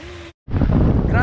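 Strong wind gusting across the microphone while fishing at sea off Occidental Mindoro, a loud roaring buffet that cuts out briefly, then rushes back harder and fuller.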